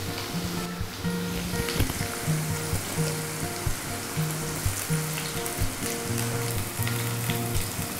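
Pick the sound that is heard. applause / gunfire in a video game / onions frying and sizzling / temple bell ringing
onions frying and sizzling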